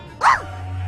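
Cerberus the dog in the video game Trillion: God of Destruction gives a single loud, close bark-howl that rises and falls briefly over a steady low game hum.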